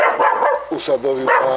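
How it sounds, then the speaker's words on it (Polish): A dog barks several times in short, close, sharp bursts, with a person talking quietly between the barks. "tu mam asystentkę jak słyszycie ona lubi sobie poszczekać"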